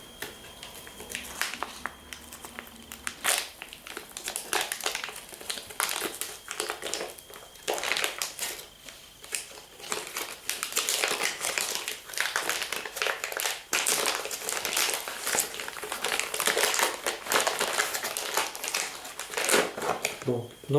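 Crinkling and tearing of a foil pouch holding a BP5 survival ration, a run of sharp irregular rustles and crackles, close and fairly loud, with brief quieter pauses.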